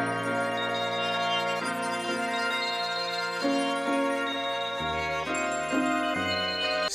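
A tubular bell melody with a warping outer-space effect plays as slow, sustained, shimmering tones that bend and shift between notes, dark and horror-like, alone and moderately quiet.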